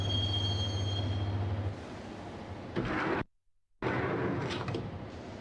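Train carriage ride to Roscoe Street Station in the Max Payne video game: a steady low rumble with a high squealing tone, a brief cut to silence, then the rolling rumble and clatter resume with no voices.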